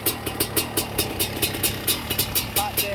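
A Honda CR500R big-bore 512cc two-stroke dirt bike runs with a steady mid-pitched engine drone and a regular pulsing beat, fairly close and continuous.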